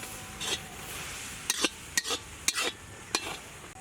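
A spoon scrapes and clinks in a pan in a few separate strokes while garlic and onion are stirred, under a faint sizzle of frying.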